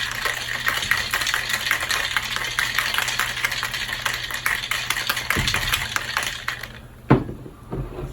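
Rapid rhythmic rattling of ice in a cocktail shaker mixing a siesta cocktail, fast steady strokes for several seconds, then a couple of knocks as the shaking stops.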